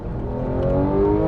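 A Porsche 911 GT3 (991) engine revving, a rising high-pitched mechanical whine building over a brief moment, loud and close with no talk.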